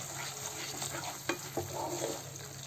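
Masala fries in oil for dum aloo, a steady close sizzle with a couple of soft stirring scrapes partway through and no one speaking.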